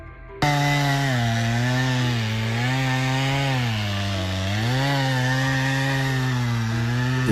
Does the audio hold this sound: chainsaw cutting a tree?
yes